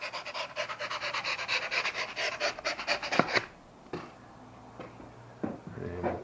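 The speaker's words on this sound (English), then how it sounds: "So just get yourself a knife and just chop off the excess." A knife saws off excess material while a new window is fitted into an old stone wall, giving a rapid, rhythmic rasping that stops abruptly partway, followed by a few scattered scrapes and knocks.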